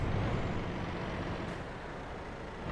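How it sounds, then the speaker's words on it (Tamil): A truck in Euro Truck Simulator 2 approaching on the road, a steady broadband engine and road rumble that stays loud throughout with no talk. "அங்கே ஒரு வண்டி வருது"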